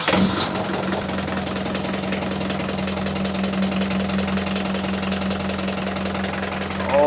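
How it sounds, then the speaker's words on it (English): A Yanmar 4JH5E marine diesel engine cranks and catches, then idles steadily with a low, even knocking throb that stays loud and close throughout, with strong vibration. "Can you try and start the engine?"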